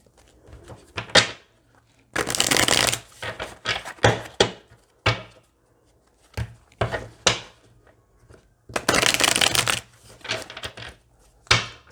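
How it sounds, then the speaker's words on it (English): A deck of cards gets riffle-shuffled again and again close by, with crisp bursts of flicking lasting about a second, broken up by taps and short pauses. "Get some good shuffles."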